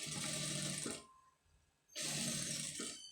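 A sewing machine stitches an embroidery blouse, running in a steady whirring burst, stopping for about a second, then starting again close up.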